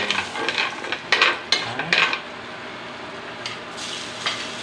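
Butter sizzling in a frying pan as a dish called alachamba starts cooking, with a steady soft crackle and a few sharper scraping stirs near the start, close and moderately loud, no talking.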